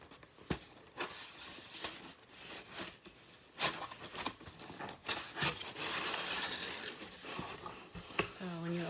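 A large Gucci.com shipping box is opened, with close cardboard scraping, tearing rasps and sharp taps, while a person talks.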